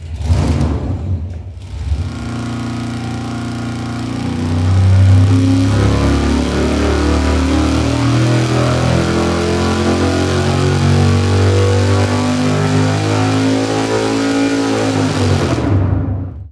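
A high-performance engine on a dyno cranks and fires, then revs up and holds a loud, rough, sustained roar with shifting pitch for over ten seconds before cutting off abruptly.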